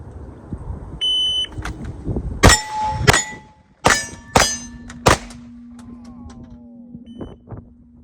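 Several sharp gunshots on a ranch shooting range during a timed practice string, each followed by a ringing metallic clang from steel targets, spaced irregularly over a few seconds, with a shot-timer beep at the start and a lingering tone afterward.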